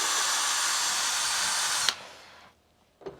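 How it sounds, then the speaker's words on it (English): Car polisher buffing with a mildly abrasive polish, a loud steady whirring drone that runs near and unbroken for almost two seconds, then winds down and stops, followed by a brief knock. "this is a car polisher with a little bit of vac polish"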